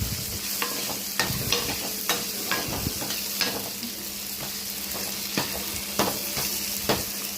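Onions and tomatoes for sambar sauté in a pan: a dense, steady sizzle with repeated sharp ladle taps and stirring scrapes at irregular intervals throughout.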